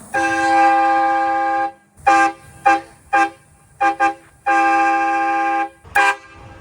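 An aftermarket train horn mounted on a Toyota Tundra blasts loud and close, first a long sustained blare, then several short toots and another long blast, with no voices over it.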